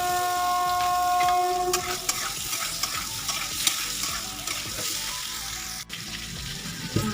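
Pieces of elephant foot yam are stirred and fried in a home kitchen pan, a loud continuous sizzle with scraping spoon strokes running throughout, near and steady.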